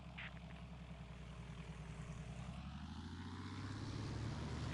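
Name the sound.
airplane engine in War Thunder video game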